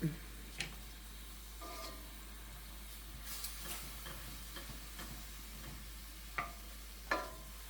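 Calabacitas with meat being stirred in a pan, soft scraping and light sizzling close by with a few sharp utensil clicks against the pan, fairly quiet overall.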